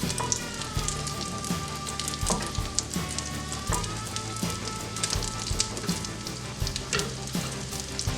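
Salmon cakes frying in a pan over medium heat, a steady close sizzle with scattered crackles and pops running continuously and unbroken by talk.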